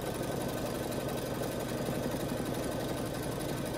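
Sewing machine stitching a quilt block for a bean bag toss game, a steady close mechanical whir with a fast even rhythm running throughout without pause.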